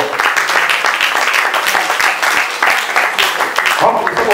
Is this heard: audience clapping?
yes